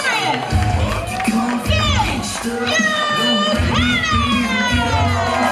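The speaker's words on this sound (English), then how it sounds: "Great reception from this SHW crowd." A wrestling event crowd cheering and shouting loudly in bursts, the high voices of excited children mixed among the roar, close and continuous.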